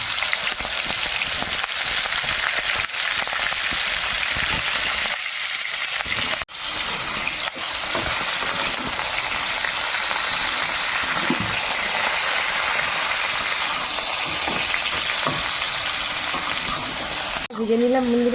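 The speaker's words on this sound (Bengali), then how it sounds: "আর ফুলকপিগুলো আমি ভেজে নেব।" Cauliflower florets frying in hot oil in a wok give a steady, loud broadband hiss and sizzle that runs unbroken throughout, with a brief clatter near the end.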